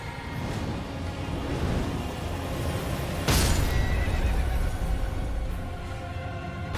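A horse in a video game whinnies loudly and close, its neigh rising over a dense game soundscape with hoofbeat-like clip-clops and a sharp burst midway.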